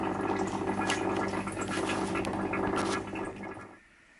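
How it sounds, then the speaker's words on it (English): Gold-plated ribbon wire bubbling in a tub of copper chloride solution, a continuous close, watery fizzing and gurgling that thins out and falls almost silent near the end. "You can hear it, you can see the bubbles there, over here, bubbling away."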